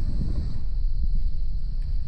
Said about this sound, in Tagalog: Saka medyo mahangin na.